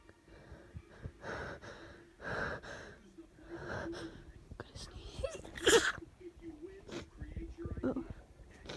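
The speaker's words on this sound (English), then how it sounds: "that was a funny sounding sneeze." A person holds back a sneeze in a string of short, quiet, muffled bursts with breathy gasps between, then one sharper stifled sneeze near the middle, all close and soft.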